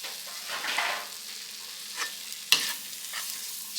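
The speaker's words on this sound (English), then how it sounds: "Stir that around, let it start frying up." Cooked rice and onion stir-fried in a pan, a soft steady sizzle with scraping strokes of a spoon or spatula and a sharper clack near the middle, close and fairly quiet.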